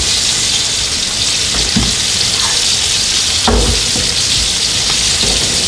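Butter-basted T-bone steak sizzling loudly in a hot pan on the stove, a dense continuous frying hiss with occasional sharper spatters as juice is spooned over the meat.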